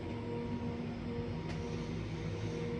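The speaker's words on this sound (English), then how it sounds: "that street cleaner felt like it was there forever" A street cleaner vehicle rumbles steadily outside in a big city, a constant low engine drone heard from a distance through a window with no talking.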